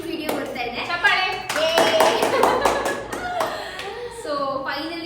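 A few people clap their hands in short, close bursts, mixed with overlapping speech and cheerful voices.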